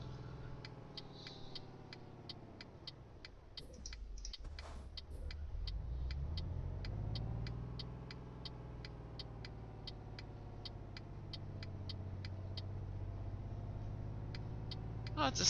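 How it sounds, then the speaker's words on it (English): Faulty truck engine, a Volvo in Euro Truck Simulator 2, running roughly with a steady mid-pitched drone, a dip and swell in revs, and a regular ticking layered on top throughout. "my engine sounds terrible"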